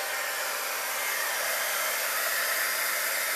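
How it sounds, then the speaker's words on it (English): A heat embossing tool blows a steady, loud, even roar of hot air over white embossing powder on paper, continuous and unbroken from start to finish with no talking. "ahead and emboss this, heat emboss it."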